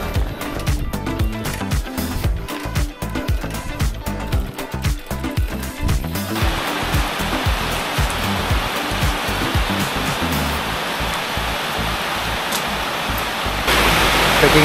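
Rain falling at a mountain bike rest stop on a wet, mossy trail in Penang, heard as a dense, steady hiss that fills the whole clip and grows slightly louder toward the end.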